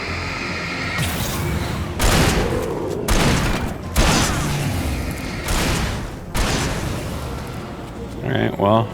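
Shotgun blasts fire in Alan Wake Remastered, several heavy booming shots spaced about a second apart, each followed by a ringing decay, loud and close with game sounds in between.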